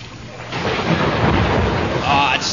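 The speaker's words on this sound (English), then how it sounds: "Sounds like a storm's coming up." Thunder rumbles low and continuous with rain noise from a storm coming up over canoeists outdoors, a broad steady roar across the whole moment.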